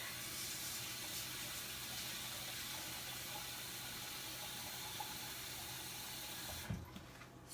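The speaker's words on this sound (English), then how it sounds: "So I'm about to wash this rice, which basically you put water on it and kind of massage it" Steady tap water pours into a sink while rice is rinsed for a vegan beef and broccoli dish, a close, even gush throughout that cuts off sharply near the end with a small splash.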